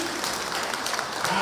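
A church congregation claps together in a brief burst of applause, dense and steady, with voices mixed in.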